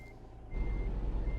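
Truck reversing alarm in American Truck Simulator, a steady electronic beep over a deep idling diesel rumble that swells louder partway through as the truck turns around near barrels.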